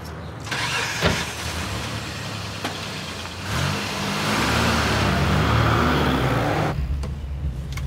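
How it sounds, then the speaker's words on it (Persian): A car engine starts with a sharp catch, settles briefly, then revs up into a loud sustained roar before dropping back near the end, heard close with no talking. "چه ماشین باحالیه"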